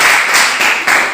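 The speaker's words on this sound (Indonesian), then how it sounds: "Tepuk tangan untuk kelompok." A school class in a physical education lesson on short-distance running claps for a group, brisk close-up hand claps in a short burst with slight rhythmic pulses, no voices over it.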